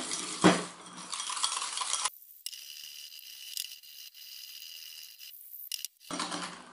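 Dalgona coffee mixture of instant Nescafe and warm water whisked by hand in a cup, a quiet scraping, stirring clatter that comes in bursts with pauses between, close and soft with no talk.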